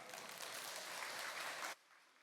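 A church congregation bursts into loud, dense applause to welcome the pastor to the pulpit during a worship service, steady for under two seconds before cutting off abruptly into quiet.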